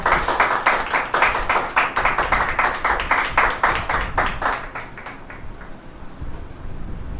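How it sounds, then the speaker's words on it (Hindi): Rhythmic clapping from a church congregation welcoming a preacher during a fasting prayer service, loud and steady for several seconds before thinning out near the end. "आइए जोरदार तालियां"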